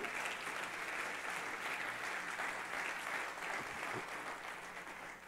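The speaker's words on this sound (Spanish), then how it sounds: "Dele fuerte ese aplauso al Señor." A church congregation claps in praise during a sermon, a full, even wash of applause filling the hall for several seconds and fading slightly at the end.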